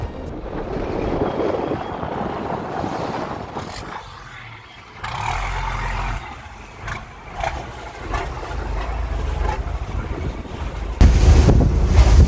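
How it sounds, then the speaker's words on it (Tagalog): Strong wind buffets the microphone over surging sea waves, a steady loud roar with a heavier gust near the end. "Sobrang alon!"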